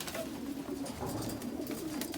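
Several pigeons coo inside a coop, overlapping low rolling calls repeating close and continuous, with no talk over them.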